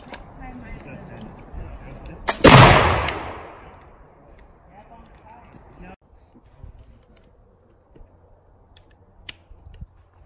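A muzzle-loading rifle fires once at the 2019 Montana Muzzle Loader Shoot, a loud, sharp report that echoes and fades over a second or two, with faint clicks and quiet background activity afterwards.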